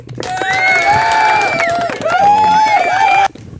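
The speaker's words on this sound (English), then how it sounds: "Can we clap it up for her real quick, please?" A podcast audience claps and cheers for a guest, with loud, sustained whoops and shouts over a bed of close applause, ending abruptly after about three seconds.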